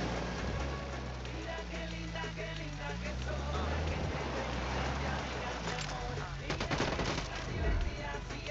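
Dense, sustained gunfire fills the scene in the tactical shooter Ghost Recon Wildlands. Overlapping bursts blend with engine noise and background music, and a sharper cluster of shots cuts through near the end.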